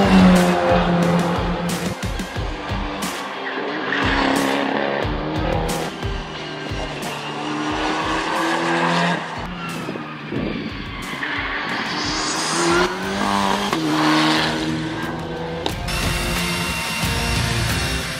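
A Mercedes-AMG GT2 race car driving on a track during a test day, its engine revving and shifting continuously with rising and falling pitch, tire squeal and skidding noises, loud and close throughout with no talk.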